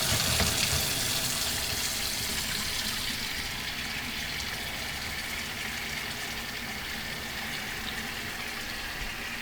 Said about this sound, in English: I'll leave it run the cold water on the sink